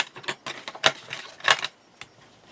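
A folded paper crafting page being burnished with a tool, giving a series of sharp, irregular rubbing and tapping strokes, close and fairly loud, with no voices.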